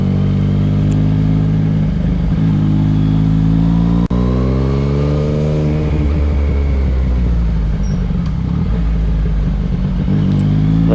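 Engine noise from a ride on a busy road, with a Yamaha MT-09 being ridden and another motorcycle approaching from behind. The loud, steady rumble rises and falls in pitch as revs build, with no talking.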